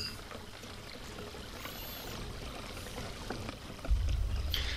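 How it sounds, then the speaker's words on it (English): Water pours steadily from an unseen source in the Eternal Darkness video game, a continuous soft gushing trickle that swells near the end into a heavier, closer rush. "The water sounds like a strong acid, perhaps strong enough to dissolve metal or flesh"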